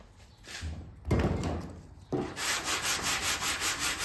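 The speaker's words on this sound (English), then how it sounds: "Let me sand a little more here, and that should go down." Hand sanding of body filler on a 1986 Mazda RX7 FC body, rough close scraping strokes in short bursts, then a steady rhythmic back-and-forth sanding.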